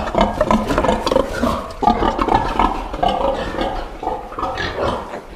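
A sow and her young piglets in a pen grunt and squeal in a dense, continuous jumble of close animal noise, with no talk.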